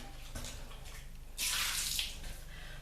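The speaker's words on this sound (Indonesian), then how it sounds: "cacing yang keluar ini kemudian kita siram kembali dengan cairan deterjen" Detergent solution is poured onto a bathroom floor to flush out worms, a soft watery splash that swells into a louder rushing pour for about half a second before easing back to a low trickle.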